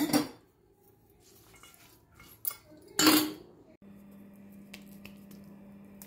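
Sarva pindi dough ingredients mixed in a mixing bowl, with a few scraping strokes and clinks against the bowl close by, sporadic knocks, and a low steady hum in the second half.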